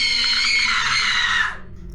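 A woman lets out one loud, sustained, shrill scream of surprise in a horror-story setting, held for about a second and a half before cutting off into near silence.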